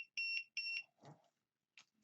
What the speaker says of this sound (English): Let's go ahead and turn on beeps for successful settings.